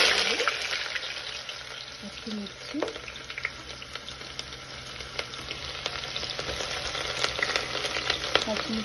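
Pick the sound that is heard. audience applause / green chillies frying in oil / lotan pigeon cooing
green chillies frying in oil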